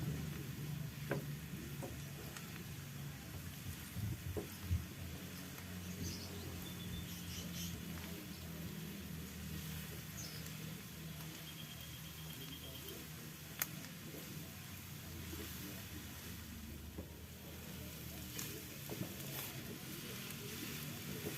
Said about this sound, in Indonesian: Lalu kita masukkan jamurnya. Sambil diaduk-aduk ya.